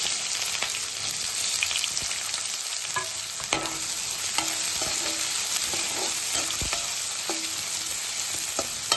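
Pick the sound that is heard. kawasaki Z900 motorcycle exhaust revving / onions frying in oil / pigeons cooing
onions frying in oil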